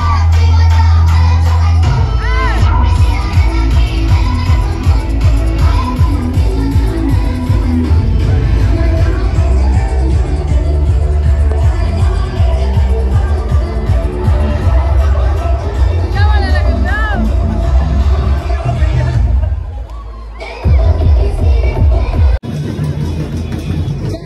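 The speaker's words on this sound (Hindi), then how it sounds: "ठीक है, बहुत भीड़ है गाइस।" A large crowd at a Bajrang Dal Hindu New Year procession in Korba, Chhattisgarh, fills the air with loud, continuous babble and street noise, while someone nearby talks steadily over the din.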